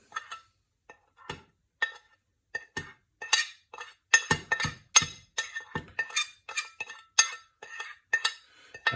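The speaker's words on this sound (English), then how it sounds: "so I'm just going to mix all of that in there" A spoon mixes chili powder, chili flakes and oregano in a bowl, giving a series of close, sharp clinks and taps against the dish, sparse at first and then quicker and louder in an irregular rhythm.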